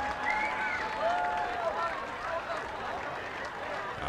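A Polish crowd at a World's Strongest Man Grand Prix in Poland keeps up steady applause and clapping with a few whistles, moderately loud and continuous.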